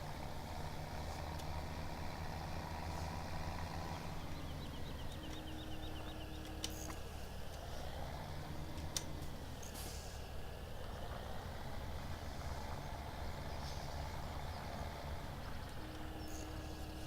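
A tractor engine in a farming simulation game drones continuously, a steady mid-distance rumble whose pitch rises and falls slightly as it works, with no talking over it.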